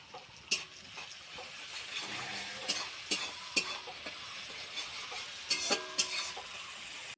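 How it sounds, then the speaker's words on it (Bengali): Chopped onion and garlic frying in hot oil for a beef tripe dish, a steady close sizzle with sharp spattering crackles and occasional stirring clinks, no talk. "তো তেল গরম হয়ে গেছে, দিয়ে দিন পেঁয়াজ কুচি, দিয়ে দিন পেঁয়াজ রসুন কুচি,"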